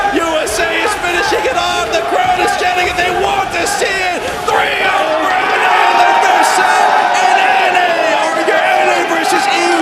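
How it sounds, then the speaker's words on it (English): A large crowd at a Black Desert NA vs EU showdown event roars and chants continuously, a dense wash of voices that swells slightly louder toward the end. "You can hear the crowd in the background."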